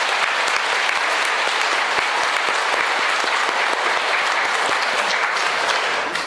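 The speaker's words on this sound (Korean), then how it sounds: "우리 환영하는 뜻으로 큰 박수 부탁드립니다" A church congregation gives loud, sustained applause to welcome first-time visitors, with a dense, even patter of many hands and no speech.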